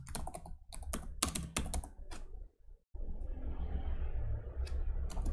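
Quick, crisp keystrokes on a computer keyboard as a search term is typed, a close rapid burst of clicks that stops after about two seconds and gives way to a low steady hum and room noise.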